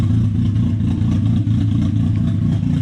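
A turbocharged Hyundai Getz engine runs loud and close with its exhaust open from the dump pipe, giving a steady, heavy low rumble with rough throbbing and no quiet gaps.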